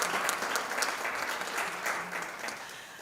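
Audience applause at a national teachers awards ceremony, a dense, steady wash of many hands clapping that carries at an even level for about three seconds and tapers off slightly at the end.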